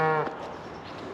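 A cow gives a single short moo at the start on open ranch land. Quiet wind-like outdoor noise follows.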